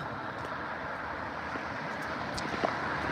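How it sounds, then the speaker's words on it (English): A steady wash of traffic noise from cars passing along a road, a continuous rushing roar at moderate distance with no voices. "These cars are too noisy, aren't they?"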